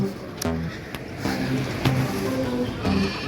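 Goats bleat in short, repeated bursts at a Qurbani livestock market, loud and close against a steady background of crowd noise.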